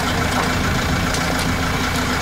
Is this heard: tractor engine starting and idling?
yes